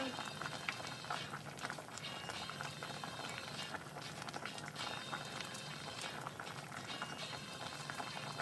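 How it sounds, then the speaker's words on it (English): Potatoes boiling in a pot of water, a dense, steady bubbling and gurgling that stays even throughout, close and fairly quiet, with faint talking partly mixed in. "I'm gonna turn off the potatoes and drain them in just a minute."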